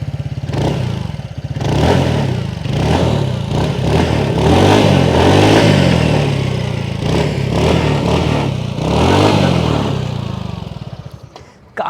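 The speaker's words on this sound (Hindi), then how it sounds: "वॉक अराउंड में मैं आपको सुना देता हूँ इसका एग्जॉस्ट नोट। अभी ये आइडियल कर रहा है" A TVS NTorq 150cc scooter idles and is blipped nearby, its exhaust note a loud, bassy burble that rises and falls in short surges, with no speech.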